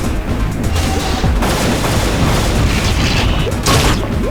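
Gunfire crackles in the multiplayer shooter Unreal, with repeated booming shots and bursts over several seconds, loud and dense, mixed with game effects.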